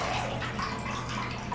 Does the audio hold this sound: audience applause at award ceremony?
no